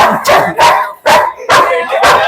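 An aggressive German Shepherd barks loudly and close by, five sharp, forceful barks in quick, fairly even succession with no voices over them.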